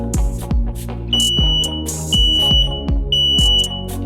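A Daytech SM06TA smoke alarm sounds sharp, high-pitched beeps in short bursts during a test, interrupted by a few clicks and thumps.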